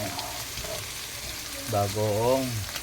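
Shrimp paste (bagoong) sautéing in a pan, giving a soft, steady frying sizzle close by, with a voice speaking briefly over it near the end.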